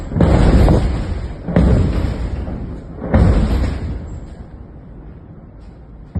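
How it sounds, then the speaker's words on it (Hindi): Three heavy booming blasts from bombardment in South Lebanon, a second and a half apart, each rumbling loudly and slowly fading, followed by a quieter tail. "धमाके की आवाज सुनाई दे रही होंगी, सुनते जाइए।"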